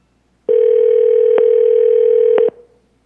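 A telephone dial tone sounds as a single steady, loud pure tone for about two seconds during a city council meeting call, then cuts off abruptly.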